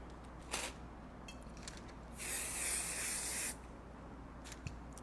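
A single sustained aerosol spray hisses for about a second onto quilt fabric, loud and close, against a quiet background with a few faint rustles.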